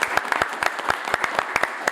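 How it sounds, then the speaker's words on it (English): Applause for panel members at a Gathering of the Clans 2017 convention panel: a small audience claps in quick, uneven bursts, close and moderately loud, with a faint voice in the background. "a big round of applause for our panel members"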